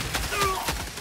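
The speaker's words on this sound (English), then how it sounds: "We have another auto cannon up." An autocannon sentry turret in the video game Helldivers 2 fires a quick burst of heavy, booming shots in rapid succession amid loud battle noise.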